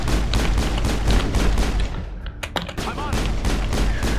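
Dense gunfire from the video game Mass Effect on Eden Prime, loud continuous volleys that thin briefly into a few sharp separate shots before the barrage resumes.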